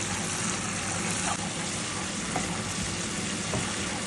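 Beetroot sizzles in a frying pan while cooking for borscht, a loud, dense hiss held at an even level from start to finish, with a few faint stirring knocks.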